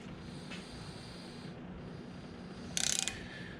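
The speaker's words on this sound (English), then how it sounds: "I am using an extension on my torque wrench" Torque wrench with an extension clicking on exhaust manifold bolts of a 2009 Hemi 1500, a short rapid ratchet-like burst of clicks near the end over a steady background hum.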